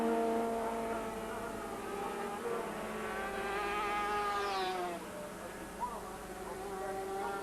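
Racing sidecar motorcycles circle the Mallory Park track on a slowing-down lap, their engines whining in rising and falling tones that pass by at a moderate distance, with a commentator's voice faint underneath.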